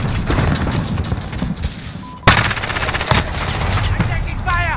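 Rapid, loud gunfire in a Call of Duty Modern Warfare Domination match on PS4, with sustained automatic bursts, a sharp blast partway through and a voice calling out over the shooting.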